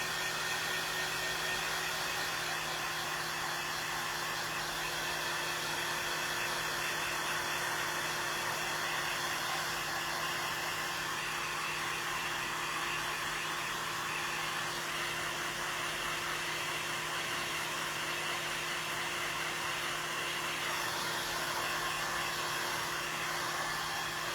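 A hair dryer runs steadily and loudly for the whole stretch, blowing on a second coat of paint on baby signs, with a constant whooshing roar and no pauses or voices.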